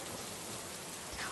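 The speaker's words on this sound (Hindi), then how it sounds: "तब भी बाहर बहुत बारिश हो रहा था।" Heavy rain falls outside at night, a steady, dense hiss of drops with no voices, fairly faint and continuous throughout.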